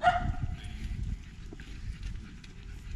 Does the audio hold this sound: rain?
no